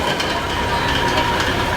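A rattling safari off-road ride truck at Six Flags in the rain, a loud, steady mechanical clatter and rumble with a rough knocking rattle, close and continuous.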